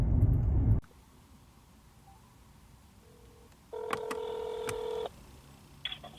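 A brief burst of noise gives way to quiet, then a telephone keypad sounds a rapid series of DTMF dialing tones at the start of a call to a county health district, followed by a short tone.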